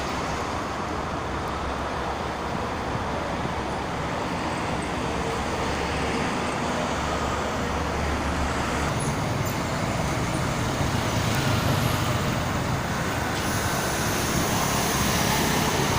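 Dense heavy traffic on the Jakarta-Cikampek toll road forms a constant loud roadway roar of cars, buses and trucks, steady throughout without distinct passes.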